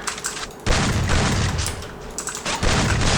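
Gunfire in a shooting video game comes in dense, loud rapid bursts, one after another with brief gaps, crowding the whole short stretch.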